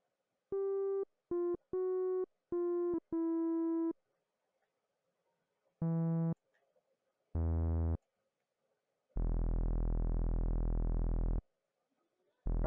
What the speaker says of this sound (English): that's it's a nice bass, nice low end here.